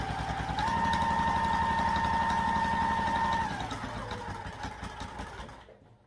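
A sewing machine hums steadily as it stitches down the long side of a crossbody bag, a rhythmic motor drone that runs for several seconds before slowing and fading out.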